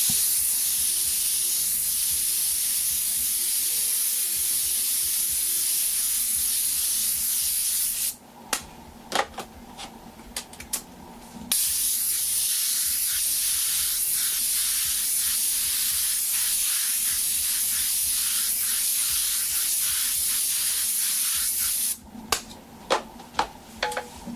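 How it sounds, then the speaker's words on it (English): An airbrush lays a wide spray over masking, giving a steady close hiss that stops briefly twice for a few seconds each time before resuming. "Start on the masking, wide spray."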